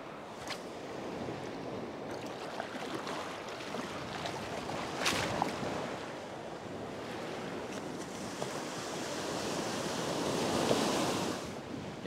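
Surf washing onto a beach during surf fishing in bright sun, with waves breaking and hissing over a steady roar, a louder crash near the end and some wind noise on the microphone.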